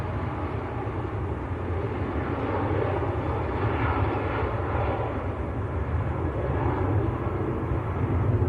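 A Ryanair jet bound for Lanzarote at Manchester Airport produces a steady low engine rumble and roar, moderately loud and swelling slightly midway, with no one speaking.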